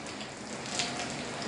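Steady rain falls in western New York, a dense continuous hiss of drops striking surfaces close by, with no voices over it.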